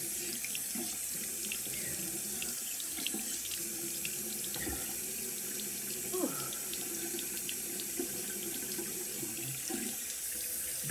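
Bathroom sink tap runs steadily during a morning face wash, a constant close hiss of water with faint splashes and no speech.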